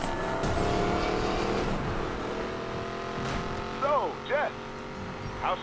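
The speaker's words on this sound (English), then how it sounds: "You know when you step on the gas and the engine growls to life for a second?" A race car engine in Need for Speed Payback hums steadily, then a few short revving swoops and tire squeals come near the end, with someone talking over the engine noise.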